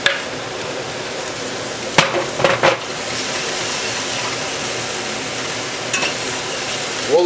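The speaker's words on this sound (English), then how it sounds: "we're going to add the tomatoes to this and saute it a few more minutes" Tomatoes being sautéed in a pan with browned bits for beef brisket bourguignonne: a steady sizzle throughout, with a few brief knocks of a utensil against the pan near the start and end.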